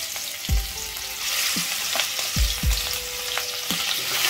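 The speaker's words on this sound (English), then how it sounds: "Fry it on both the sides with turmeric." Prawns sizzle in a hot pan with turmeric, fried on high flame; a steady loud frying hiss runs throughout with several sharp splatter pops and spatula taps.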